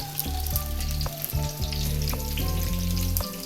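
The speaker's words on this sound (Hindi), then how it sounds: "इसको अच्छे से कलर देंगे, फ्राई करेंगे" Eggplant halves frying in oil in a pan, a steady close sizzle that keeps crackling, with repeated short clanks and scrapes of a utensil stirring against the pan.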